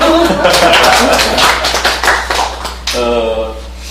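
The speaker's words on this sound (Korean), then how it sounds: "박수 한번 칠까요?" A small group clapping briefly during a fermented jakdukong (sword bean) tea tasting session, quick hand claps mixed with overlapping voices talking, close and moderately loud.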